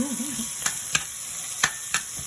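Food browning in a pot for a homemade pot roast, a faint steady sizzle with several sharp clicks of stirring, close by.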